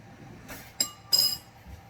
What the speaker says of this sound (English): Take a bowl. Take a spoon,